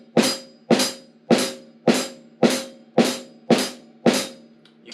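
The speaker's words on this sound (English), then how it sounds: "You can hear that there's just a little bit where they're not properly locked in properly in time." Drum kit snare and hi-hat struck together as a loose flam, eight sharp hits at a steady beat with the two sounds slightly out of time, close and fairly loud with no talk.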